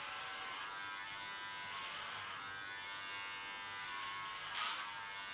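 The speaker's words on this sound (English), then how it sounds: "It's 2 on my clipper." An electric hair clipper at setting 2 buzzes steadily while cutting short hair, a continuous close hum with slight swells as it passes over the head, no talking.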